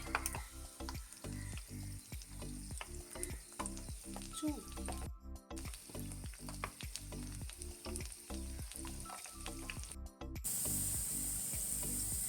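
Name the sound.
potato rolls frying in oil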